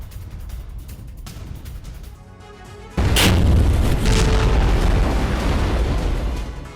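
A missile strike on an oil depot in Zhytomyr during wartime sends out a sudden loud blast that rolls into a long, heavy roar, heard from a distance after a stretch of quieter background rumble.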